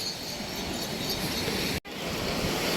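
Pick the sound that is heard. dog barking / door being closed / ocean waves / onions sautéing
ocean waves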